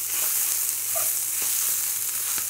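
Hoisin tofu fries with a loud, constant close sizzle in a hot pan, with a few soft taps and scrapes as the pieces are flipped.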